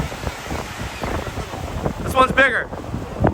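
Strong wind at Maho Beach buffets the microphone in gusty rumbles, with a person speaking briefly over the roar.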